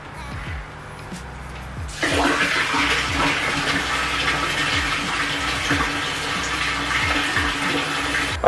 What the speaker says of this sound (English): I've siphoned the water into the box now